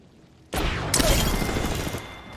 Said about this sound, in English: It's a shotgun, bro.